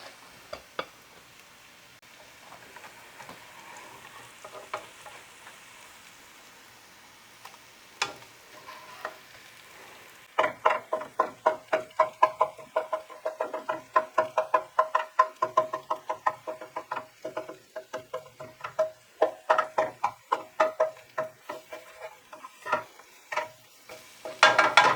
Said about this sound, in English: This way we could cook the vegetables and we don't have to add more oil later on.